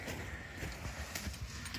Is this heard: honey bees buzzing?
no